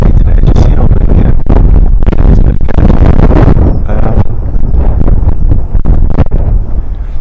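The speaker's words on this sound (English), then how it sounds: "It is a little bit more windy today" Strong wind buffets a microphone in an outdoor park, a loud continuous roaring rumble with gusty surges throughout and no talk.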